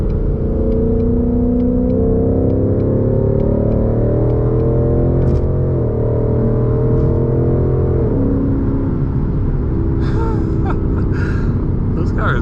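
A 2020 Mustang GT with a Borla exhaust pulls hard on a night street drive, its loud, close exhaust rumble rising and falling through gear changes, with a few faint clicks and bumps over the steady roar.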